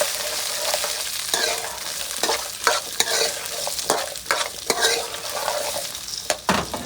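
Taro root (arbi) shallow-fries in a little oil with a steady sizzle, close up, while a utensil stirs it in repeated scraping strokes; no one speaks.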